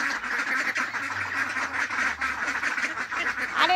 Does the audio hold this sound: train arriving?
no